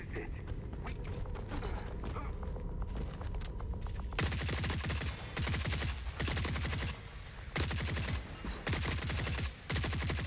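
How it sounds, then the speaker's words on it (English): Gunfire in The Forever Winter rattles out in repeated loud bursts of rapid shots separated by short pauses, over a constant low game rumble. "shooting feels the same so far"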